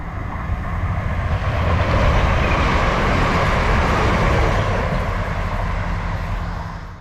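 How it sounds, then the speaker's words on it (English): A steady low rumble swells and holds for several seconds, then eases off, like a train passing at a moderate distance on a modern railway beside a countryside walk. "I hear a train coming."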